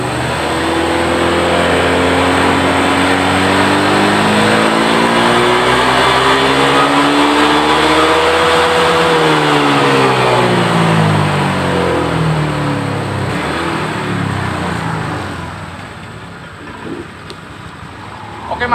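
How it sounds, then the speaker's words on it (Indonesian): An automatic scooter with a power-loss fault, its engine revved slowly from idle: a loud, steady drone that climbs smoothly in pitch, peaks midway, then winds back down and fades near the end. "Sekarang kita gas pelan-pelan dari nol,"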